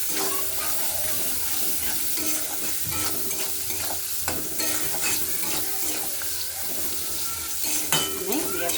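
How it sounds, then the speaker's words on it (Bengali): Onion fries in a pan with a steady crackling sizzle while a utensil stirs and scrapes against the metal, adding occasional clinks. "আমি পেঁয়াজটাকে একটু ভাজা ভাজা করে নেব"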